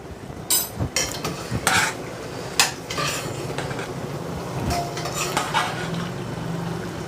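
Rice being mixed in a pot for chicken biryani, with a metal spoon scraping and clinking against the pot in irregular strokes, close by over a low background hum.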